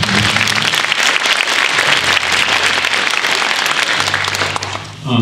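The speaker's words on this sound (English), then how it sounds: "I'll have a round of applause." Loud, sustained audience applause at a high school winter band concert, thick and even throughout before tapering off sharply at the end, with a low hum underneath.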